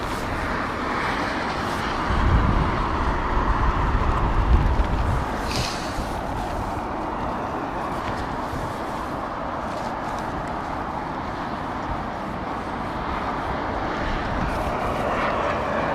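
Jet airliner engines roaring at Heathrow Airport in stormy wind, a sustained broadband rumble that swells for a few seconds and then settles into a steady roar, with no talk.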